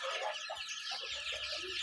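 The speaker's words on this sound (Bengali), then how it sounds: "টাইগার মুরগির" Bahama tiger chickens cluck softly in a short burst of several quiet, close calls.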